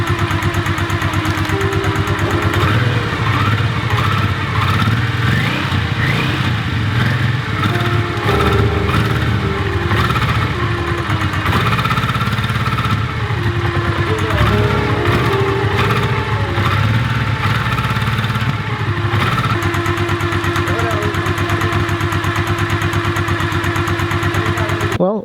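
A Honda Ascot motorcycle that has sat unused for a dozen years runs loud and close, its engine revving and falling back in uneven swells over a steady idle, with a voice talking over it at times.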